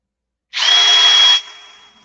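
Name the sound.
power drill drilling deeper into an airplane part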